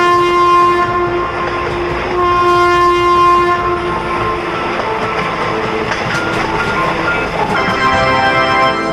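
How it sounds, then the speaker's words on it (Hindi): A cartoon train pulling out of a station sounds a long steady horn over rolling rail noise and clatter, loud and continuous with no talk. "तभी ये ट्रेन यहाँ से जाने लगती है।"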